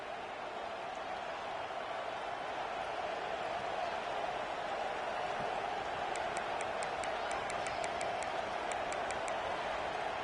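Steady, dense stadium crowd roar from the NCAA 26 college football video game, Wisconsin at Michigan State, holding a constant level throughout with faint rapid chirping near the end.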